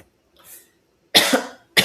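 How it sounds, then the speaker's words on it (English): Two sharp, loud coughs from a man, close up, with a faint breathy sound before them and silence in between. "I'm coughing."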